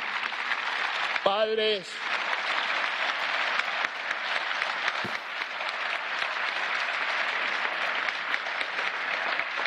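A large audience at the Sakharov Prize ceremony applauds for guests from the Venezuelan opposition, dense steady clapping that fills the hall, with a brief voice speaking over it early on.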